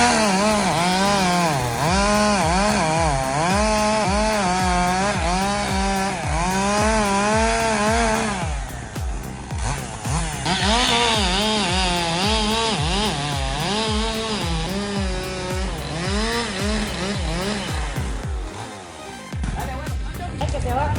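A chainsaw cuts into a tree trunk, its engine note rising and falling in rapid repeated revs, close and loud for the full stretch with voices faintly mixed in.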